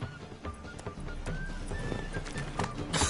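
Horse hooves clip-clop steadily in The Witcher 3, with a rider's horse trotting along amid game ambience and a brief whinny-like tone near the end.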